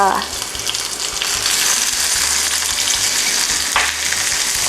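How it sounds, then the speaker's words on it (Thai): Chopped onion stir-frying in hot oil in a pan for Japanese-style chicken rice: a loud, continuous close sizzle with a couple of sharper stirring scrapes, no voices. "ใส่หอมใหญ่ลงไปผัดค่ะ"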